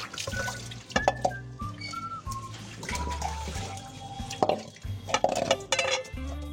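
An old blackened kadai being scrubbed clean, rough rhythmic scraping and clanking of metal mixed with running and splashing water, loud and close, with no talking.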